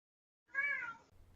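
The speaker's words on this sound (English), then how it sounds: "Meow. And Nico does not care for that" A single drawn-out cat meow, clear and close, rising then falling over about half a second, followed by a quiet low rumble.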